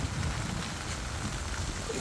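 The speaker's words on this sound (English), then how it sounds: "but it's now turning to rain" Steady desert storm rain patters and hisses continuously on surfaces in Quartzsite, dense and even, with no voices.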